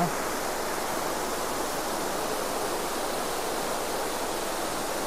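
Elephant Falls waterfall in Shillong, Meghalaya, gives a steady, full rushing roar of falling water that stays even and unbroken throughout.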